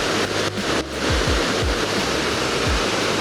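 Powerful waterfall in Costa Rica roaring as a dense, constant rush of falling water, loud and close, with a few low thumps underneath and no talk.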